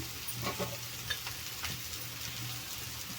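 Bitter gourd and dried fish fry in a pan, a steady close sizzle broken by a few stirring scrapes, with no voices.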